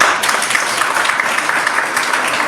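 Applause from an audience at a college talk, a steady dense wash of many hands clapping throughout, fairly loud and continuous with no pauses.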